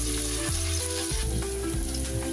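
Leek and pepper braising in a pan, a dense, continuous loud sizzle with occasional soft shifts and bumps, alone without talk.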